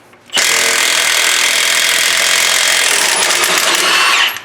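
A Milwaukee 3/4 inch cordless impact wrench hammers loudly and continuously for about four seconds as it works on stubborn lug nuts of a 2009 Ford F750 truck, starting abruptly and stopping at the end.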